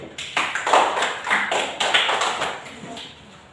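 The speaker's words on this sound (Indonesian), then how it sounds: "Mari kita semua tepuk tangan dulu." Classroom students clapping together during a lesson, a quick run of sharp hand claps that swells and then thins out toward the end, moderately close, with a little voice noise mixed in.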